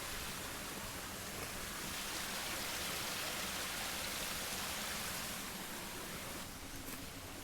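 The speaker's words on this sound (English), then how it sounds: "Oh, you can hear the waterfall. Listen to this." A waterfall on the Isle of Wight gives a steady, faint, hissing rush of falling water that stays even throughout without other distinct sounds.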